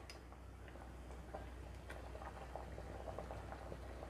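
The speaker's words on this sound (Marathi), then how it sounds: "पाण्याला उकळी आली आहे" A pot of water with rice for chicken biryani boils steadily, giving a soft, continuous bubbling and popping with scattered small ticks, fairly faint and with no one speaking.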